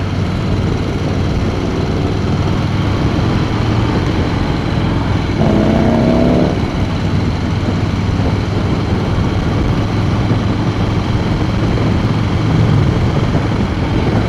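A 2016 Harley Davidson Slim S engine drones steadily while riding, a continuous loud low rumble mixed with wind roar that holds for the whole stretch.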